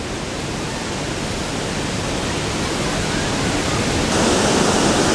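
Grand Falls waterfall in Joplin, Missouri, a steady broadband roar of rushing water, close and loud, growing slightly louder near the end with no voices.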